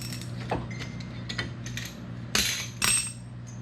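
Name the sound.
compressing brake caliper cylinder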